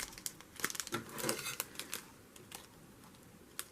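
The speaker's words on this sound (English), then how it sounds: "How do you open a little bag? You have to cut it." A small plastic bag of diamond painting drills is snipped open close by, with faint crinkling rustles and light clicking cuts in a quiet room.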